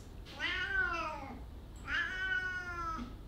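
A house cat gives two drawn-out meows close by in a quiet indoor room, with a short pause between them and no talking.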